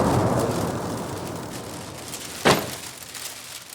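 A single sharp burst from an explosion at a laundry fire cuts through steady rushing noise, fading quickly back into the hiss.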